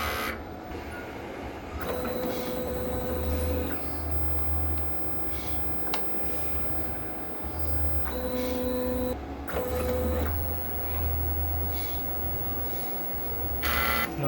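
A DTF printer runs a head cleaning cycle, with mechanical whirring and pump motor bursts switching on and off, a sharp click and repeated stretches of steady buzzing.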